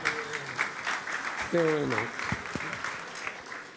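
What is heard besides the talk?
audience applause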